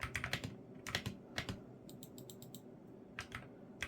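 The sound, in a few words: typing on AKKO MonsGeek FUN60 PRO keyboard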